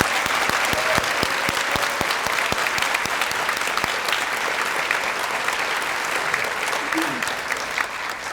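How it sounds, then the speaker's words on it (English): A room of guests at a teacher of the year reception applauds the finalists, steady and dense clapping that stays loud throughout. "I would like to ask everyone to please join me in giving them both a much-deserved round of applause."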